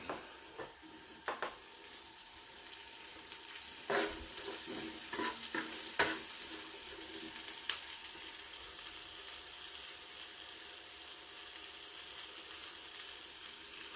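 Onions cook in a pan for vegetarian paella, a soft, even sizzle running throughout with several brief scraping stirs and utensil taps early on, fairly quiet and with no talk.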